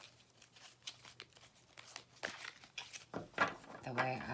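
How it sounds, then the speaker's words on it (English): Large, glossy, stiff tarot cards of thick cardstock are shuffled, giving close papery slaps, riffles and crinkly rustles in uneven bursts, with a voice speaking softly now and then. "they're pretty thick cardstock, so they're not the easiest to shuffle"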